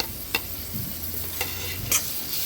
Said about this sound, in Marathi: हळद आणि मसाला पण तेलावर छान परतून घेऊया